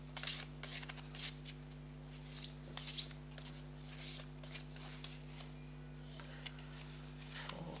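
A deck of alchemy cards is shuffled by hand in a quiet room, soft papery riffles and swishes repeating in short bursts over a steady low electrical hum.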